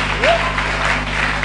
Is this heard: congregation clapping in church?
yes